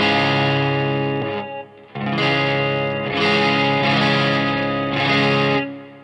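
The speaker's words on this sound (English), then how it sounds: "what I really like to do in order to just make it a little bit wider, broader, is add some light chorus in front" Electric guitar run through a light chorus pedal at low gain, with sustained chords ringing wide and shimmering, a short pause, then more strummed chords. It is close and clear with no talking.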